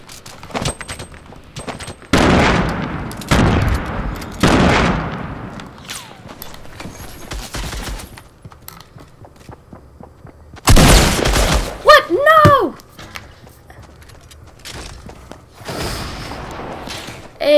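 Fortnite gunfire and explosions from an enemy grenade launcher, heavy broadband blasts around 2–5 s and again near 11 s, mixed with scattered thuds and footsteps, with a shout or voice-like sweep in between.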